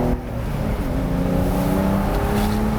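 A Porsche with a manual gearbox pulls through a turn, its engine note climbing steadily as it accelerates, a loud, continuous, rising mechanical drone with no voices.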